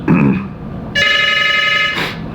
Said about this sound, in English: And a phone call, clearly.